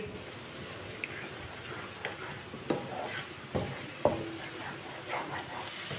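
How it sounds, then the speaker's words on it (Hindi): A spoon stirs and scrapes egg omelette in a cooking pan, giving scattered light taps and clicks over a steady low sizzle. "इसी तरह चम्मच चलाते हुए पका लेंगे।"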